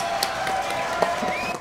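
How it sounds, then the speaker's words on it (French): A studio audience gives Sophie a brief, steady round of applause, a dense wash of clapping from a crowd at moderate loudness with no talking over it. "Applaudissements pour Sophie"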